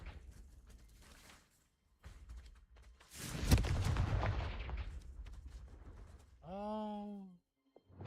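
A Confringo blasting spell bursts in Hogwarts Legacy, a loud broadband blast that rumbles and decays over about two seconds amid game ambience, followed by a short tonal chime.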